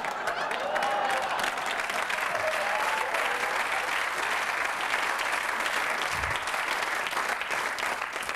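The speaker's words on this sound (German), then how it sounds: "Applaus" A stadium crowd applauds steadily and densely throughout as a 5000-metre runner takes her lap of honour, with faint crowd murmur mixed in.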